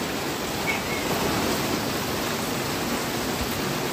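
Heavy rain pours steadily onto a kitchen garden with plants, a dense, even hiss of close, loud falling water throughout with no talking.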